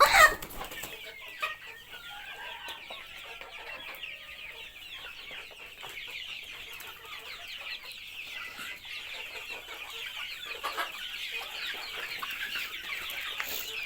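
Desi chickens kept in confinement cluck steadily throughout, a busy chorus of overlapping clucks from several birds at close range with no talk.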